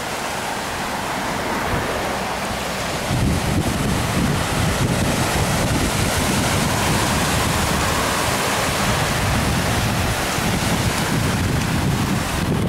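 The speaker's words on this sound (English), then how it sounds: "And I guess the ocean is kind of fierce here." Fierce ocean surf at a beach in York, Maine roars in a continuous, loud wash of breaking waves, heavily mixed with wind buffeting the microphone throughout.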